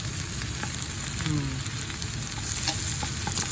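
Garlic and sausage frying in a pan while being stirred, a dense continuous sizzle with scattered light scraping taps of the utensil, close up.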